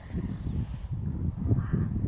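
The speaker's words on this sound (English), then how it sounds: "Oh, the birds all migrating." Crows cawing overhead amid migrating birds outdoors in Peterborough, a steady mix of calls over low rumbling background noise throughout.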